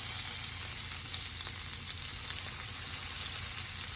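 Rainbow trout cooking in a pan, a close, steady frying sizzle with soft crackles and no talk.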